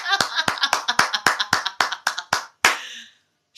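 Close, loud single pair of hands claps in a steady rhythm, about a dozen sharp claps spaced roughly a quarter second apart, ending with a final clap that trails off into silence.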